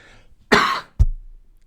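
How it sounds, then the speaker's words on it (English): Two sharp, close coughs in quick succession, the first longer and raspy, the second short and abrupt, with quiet before and after. "there will be a bit of cough"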